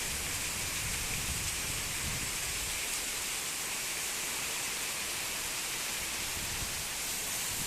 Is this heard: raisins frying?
no